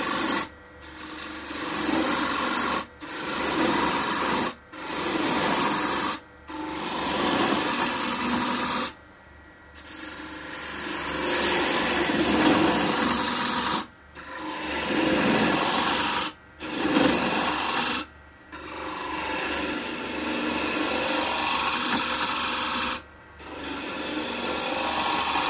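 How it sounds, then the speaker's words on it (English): Small gouge shaping the slender neck of a wood-turned lady figure on a lathe, a loud close rasping scrape in long continuous passes broken by brief gaps as the tool lifts off. "I want to start doing the neck, just using my small gouge"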